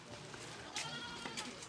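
Goats being led uphill on a mountain trail bleat faintly in the background, a couple of short cries within a low, noisy outdoor ambience.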